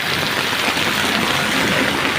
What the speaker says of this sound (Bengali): এই পানির সাথে, এই বৃষ্টির সাথে, এই অতিবৃষ্টি